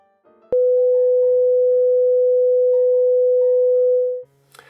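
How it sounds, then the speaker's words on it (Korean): A steady pure sine test tone at 500 Hz sounds alone for about four seconds after a brief click, loud and unwavering, then stops abruptly with a short faint blip at the end. "500Hz가 중음처럼 들려요."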